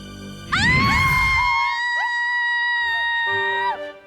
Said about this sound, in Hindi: क्यों चिल्ला रही हैं आप?